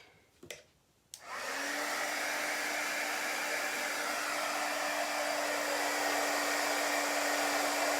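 Heat dryer blowing over chalk paste on a craft stencil, a steady loud whooshing hum with a low motor tone that starts after a couple of clicks and runs continuously.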